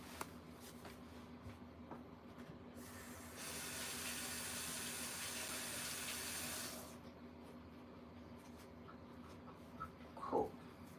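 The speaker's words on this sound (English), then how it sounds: "So I'm gonna just rinse my gloves quickly" Tap water runs into a sink for a few seconds as gloved hands are rinsed, a soft steady rush that starts and stops cleanly in a quiet room.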